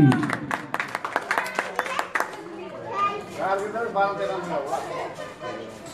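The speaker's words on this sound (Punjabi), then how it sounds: "ਜੋਰਦਾਰ ਤਾੜੀ" Crowd applauds at a village cricket match to mark a partnership, with a quick burst of clapping followed by chatter and children's voices, fairly close and lively.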